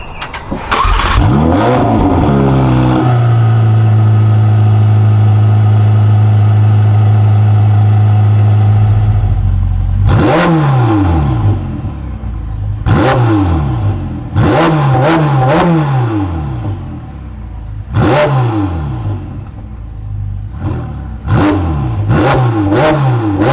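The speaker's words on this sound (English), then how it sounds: "start the 488 Pista and give it a little bit of a rev" A Ferrari 488 Pista with an Inconel exhaust fires up with a loud bark, settles into a high steady idle, then lets out a series of sharp, rising revs that snap back down, up close and alone.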